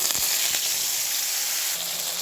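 A paste of ginger, mustard and cumin hits hot oil and sizzles loudly, a dense, close frying hiss that holds steady for a couple of seconds.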